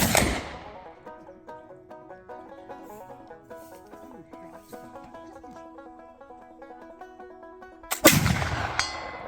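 A flintlock fires among Montana pines in November: a sharp blast is followed by a long, clear metallic ringing from a struck steel target, then another sharp report near the end.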